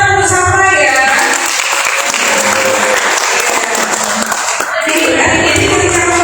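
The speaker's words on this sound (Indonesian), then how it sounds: "Oke, tepuk tangan bersama ya." At a Magelang job fair work-mentality session, an audience claps together in a loud, sustained burst, with a voice heard just before and after the clapping.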